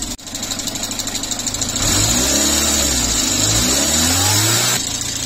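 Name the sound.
Renault Super 5 engine revving, hesitating on acceleration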